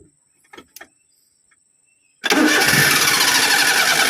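A Perodua Kancil engine cranks steadily with a loud, continuous churning starter whir after a few quiet clicks, but it never catches and runs.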